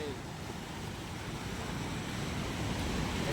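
Floodwater from the overloaded Nathsagar dam at Paithan crashes against a bridge in a loud, unbroken roar of rushing water and spray, steady and close throughout.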